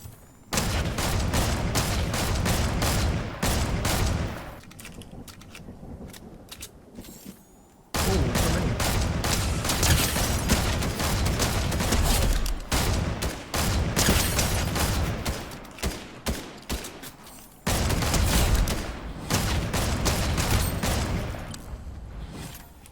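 Rapid bursts of gunfire from a Fortnite Chapter 3 Season 2 match fill the scene, dense volleys of shots running in long stretches broken by brief lulls, loud and close.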